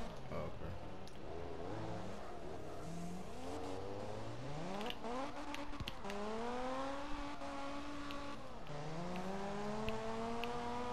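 A Toyota Supra revs in a video game drifting session, its engine pitch sweeping up and down through repeated gear changes, a continuous close whine with gaming background noise.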